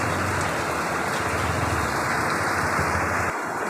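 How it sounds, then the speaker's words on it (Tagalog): Heavy rain pours down steadily in a dense, continuous hiss of drops striking surfaces, loud and unbroken for the whole stretch, easing slightly near the end. "Walang pahinga ang ulan mga idol."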